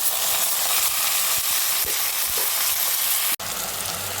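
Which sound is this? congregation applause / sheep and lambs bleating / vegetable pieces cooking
vegetable pieces cooking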